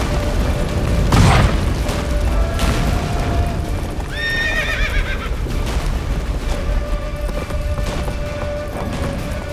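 In Witcher 3, the horse Roach gives one clear, wavering whinny amid rumbling battle noise, hoofbeats and a low droning tone.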